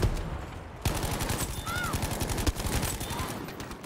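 Sturmgewehr assault rifle fire in a Battlefield video game: rapid, close automatic bursts with heavy chattering shots over a noisy battle backdrop.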